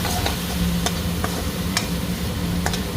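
Spice paste with curry leaves frying in a pan for a wild karela and potato dish, a loud, close, continuous sizzle with scattered sharp crackles and stirring scrapes, no talking.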